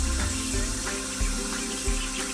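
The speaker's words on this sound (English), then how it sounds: "if Dario leaves the water running while he brushes, he could use up to 5 gallons for teeth brushing alone" A bathroom faucet is left running during tooth brushing, giving a steady, loud rush of water that hisses without a break.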